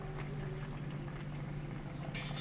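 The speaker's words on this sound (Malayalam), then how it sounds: "തിളയ്ക്കുന്നുണ്ട്" Fish head curry simmers in a pot after about fifteen to twenty minutes covered on the flame, giving a steady, dense bubbling hiss with a low hum underneath that holds evenly throughout.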